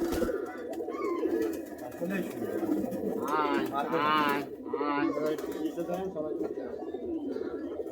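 Pigeons coo repeatedly through soft murmuring talk, the low burbling calls rising a few times in the middle before fading under background voices.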